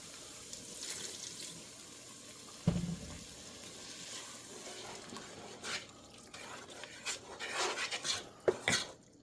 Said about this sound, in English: we'll start getting some water in there now